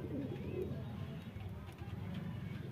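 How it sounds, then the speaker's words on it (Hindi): Soft, low pigeon cooing murmurs faintly against a quiet background hum, with indistinct voices nearby, as racing pigeons are held back on a rainy day. "कबूतर दिखा दो सारे"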